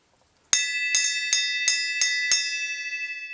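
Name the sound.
bell being rung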